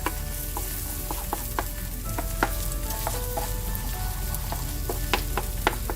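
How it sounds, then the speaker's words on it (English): Eggs seasoned with salt and pepper scrambling in a frying pan with tomato, a constant sizzle punctuated by sharp clicks of a utensil against the pan, close up and without talk. "Start scrambling the egg."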